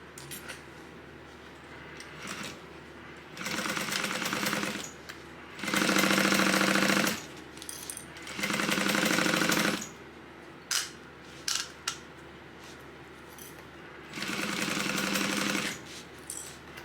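A sewing machine runs a 3/8-inch seam on a tote bag in several separate bursts of steady mechanical stitching, with quiet gaps and small clicks between runs.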